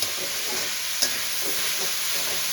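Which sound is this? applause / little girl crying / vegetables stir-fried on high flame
vegetables stir-fried on high flame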